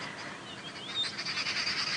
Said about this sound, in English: Hearing those babblers calling in the distance